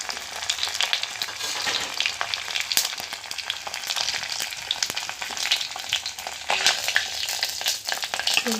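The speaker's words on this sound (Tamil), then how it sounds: "பிரிஞ্சி இலை, சோம்பு, பட்டை, கிராம்பு, ஏலக்காய், அப்புறம் வெங்காயம், பச்சை மிளகாய் போட்டு இது பண்ணிக்கலாம்" Bay leaf, fennel, cinnamon, cloves, cardamom, onion and green chilli fry in a pan as a tomato soup base, with loud crackling sizzle broken by frequent sharp scrapes and clicks of stirring, close and continuous.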